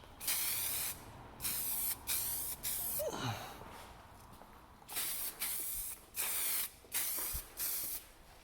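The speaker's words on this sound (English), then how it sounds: "Try and get all sides easy enough. Maybe 2 coats, maybe 3. And hopefully I don't get too much overspray on my toolbox." Spray paint is applied from a can on a workshop toolbox in repeated short hissing bursts, each about half a second to a second long, with brief pauses between passes, close and fairly loud.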